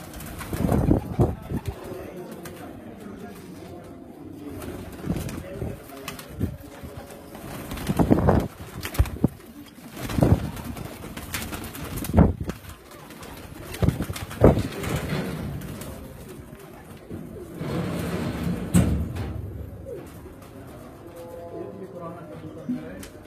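Bred pigeons in a loft in Ras Al Khaimah, UAE, cooing in repeated low throaty calls, close by, with people talking over and between the coos.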